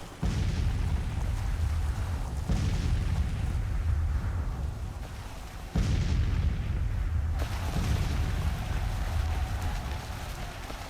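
Artillery fire in Grand Tactician: The Civil War, a deep, continuous rumble of cannon blasts and battlefield roar, with loud booms swelling around the middle of the stretch and no talk over it.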